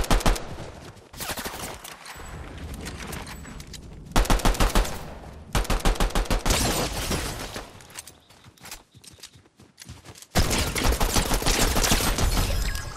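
Rapid automatic gunfire in a shooter video game, from a tuned pistol, loud, close bursts of dense shots separated by short pauses, with no talk.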